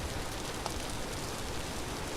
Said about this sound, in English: I don't think I know anyone who doesn't like the sound of rain.